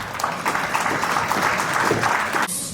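Conference audience clapping, a dense, even wash of many hands sustained for nearly three seconds before cutting off abruptly.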